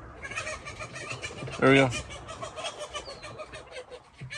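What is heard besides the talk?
agitated roosters crowing in a cage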